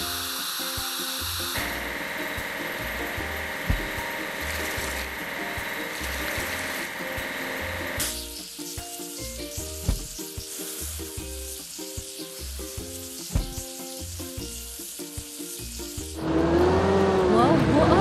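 Truck washing in a kids' construction video game, a steady hissing spray with clattering game effects and background music, ending in a brighter splashing burst.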